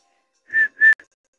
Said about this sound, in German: Ich war gerade dabei, mich ein wenig im Pfeifen zu üben.